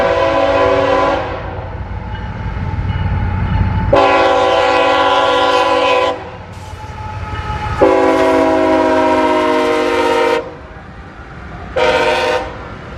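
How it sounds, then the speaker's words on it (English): A CSX freight train led by a GE ET44AC locomotive rumbles past up close, its loud multi-tone horn blaring in several long blasts over the steady roar of the locomotive. "The lead engine is a CSX GE ET44 AC."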